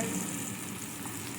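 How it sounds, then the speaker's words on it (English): Shallots sauté in a hot pan while beef tenderloin is being prepared, giving a steady, close sizzle of frying that runs unbroken from start to finish with no voices. "So we're going to add the shallots. And saute them to a nice, tender,"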